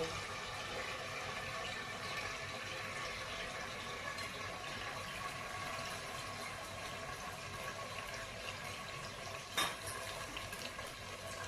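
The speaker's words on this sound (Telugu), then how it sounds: "ఆయిల్ వేడైందండి. వేడిన తర్వాత మనం ఉల్లిపాయలు వేసుకోవాలండి." Onions dropped into hot oil for an authentic mutton curry give a steady, even sizzle that stays close and fairly loud throughout, with one sharper crackle near the end.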